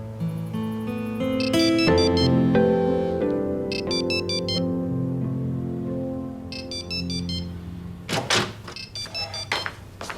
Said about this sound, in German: dein Telefon klingelt seit 10 Minuten